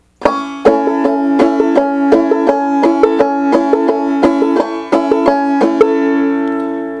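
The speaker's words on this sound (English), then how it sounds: "Now, the basic bump ditty stroke" A fretless clawhammer banjo plays the basic bump ditty stroke, giving steady plucked notes with sharp rhythmic brush strikes over ringing strings, close and clear, with the final chord left to ring.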